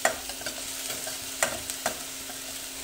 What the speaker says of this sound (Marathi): या आलं लसणीचा कच्चा वास जाईपर्यंत थोडी परतून घेऊया।